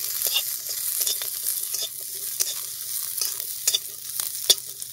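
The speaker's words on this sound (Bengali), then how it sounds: "রসুনের কোয়াটাকে হালকা করে ভেজে নেব।" About ten to fifteen whole garlic cloves fry in chili-scented oil for a jackfruit-seed and pumpkin-leaf mash, with a soft, steady sizzle broken by the scrape and clatter of stirring close by.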